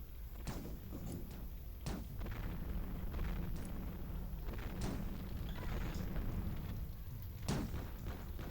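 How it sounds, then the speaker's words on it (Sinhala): Bombs go off in a shooting video game: several booming blasts and heavy thuds spaced a few seconds apart over a constant rumbling background, fairly loud and close. "බෝම්බයක් දාන්න අපි"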